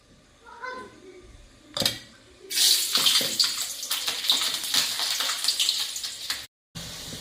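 Garlic dropped into a hot kadhai sizzles sharply, a bright hissing crackle that rises suddenly and keeps spitting for several seconds, followed by a brief cut and faint kitchen sounds.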